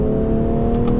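A 2017 BMW 435d diesel with a ZF 8-speed gearbox pulls hard under full throttle, with a steady, loud engine drone climbing in revs from inside the cabin.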